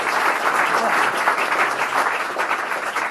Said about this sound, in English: A golf clap.